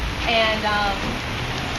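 Heavy rain pours steadily over an outdoor platform at a fall goat show, a dense broadband hiss that stays constant throughout, with a brief voice speaking over it near the start.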